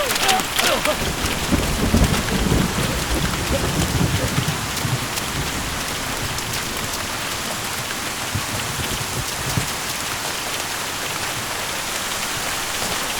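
Hail and heavy rain pour down during a thunderstorm, a dense steady roar of drops hammering surfaces, loudest in the first seconds with thunder rumbling low beneath; faint voices are barely present.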